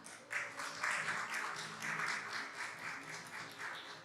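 Audience applause at a live talk event, a steady patter of many hands clapping, fairly faint and distant throughout.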